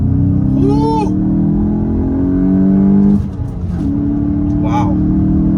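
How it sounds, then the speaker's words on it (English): A 2022 Volkswagen Mk8 GTI with a six-speed manual roars as it accelerates hard in second gear, pitch climbing, then a brief dip at a gear change before the turbocharged engine pulls strongly again, loud and close. "second gear should give us a good opportunity to see this acceleration"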